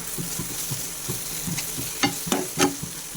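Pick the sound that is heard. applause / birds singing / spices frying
spices frying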